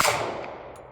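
A single gunshot goes off at a shooting range. It is a sharp blast that fades into a decaying echo within a second, with no talk.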